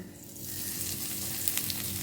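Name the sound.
asafoetida tempering sizzling in hot oil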